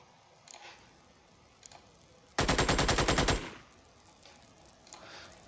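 A roughly one-second burst of rapid automatic gunfire from the PC strategy game Xenonauts, loud and evenly paced, standing out against a quiet game background with a few faint clicks around it.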